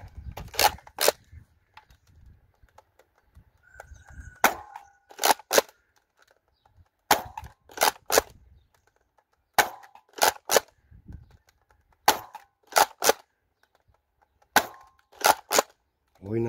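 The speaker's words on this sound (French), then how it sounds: "Maintenant les tirs posés." A modded X-Shot Pro Fury-X dart blaster fired in deliberate aimed shots, sharp close snaps coming in pairs and small groups with quiet gaps between, faint background sounds in the pauses.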